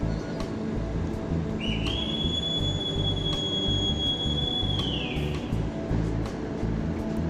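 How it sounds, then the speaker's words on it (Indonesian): The KA Jayakarta Premium train pulls out of Cikampek station with a loud, steady rolling rumble, and a long, high wheel squeal rises over it and holds for several seconds. "KA Jayakarta diberangkatkan kembali dari stasiun Cikampek jam 2:13."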